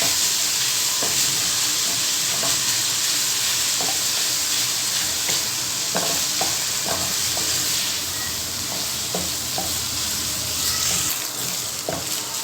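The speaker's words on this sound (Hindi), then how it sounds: "ये देखें जी, कीमा हमारा अच्छी तरह से भून चुका है" Minced meat (keema) fries in a pan with a steady, loud sizzle and hiss, broken by occasional clicks and scrapes of stirring.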